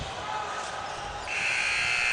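Arena buzzer at the end of the first half of a youth basketball game, a sustained electronic tone starting partway through over loud crowd noise and commentary.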